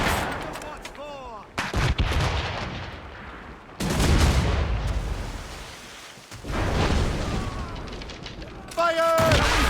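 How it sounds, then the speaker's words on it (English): Ship cannon fire in Assassin's Creed Rogue, several heavy booming blasts in separate bursts, with voices shouting orders between and over the shots. "Put a shot through it then!"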